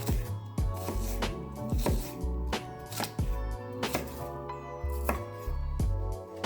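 Shallots chopped with a knife on a cutting board: a steady run of sharp, close strikes at a brisk, fairly even pace, with soft music playing underneath.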